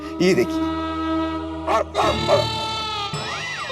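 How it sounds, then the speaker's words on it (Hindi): A doorbell sounds off with electronic dog barks, a few short yaps over a steady tone, while a person speaks briefly. "वो डोरबेल में कुत्ते की आवाज है,"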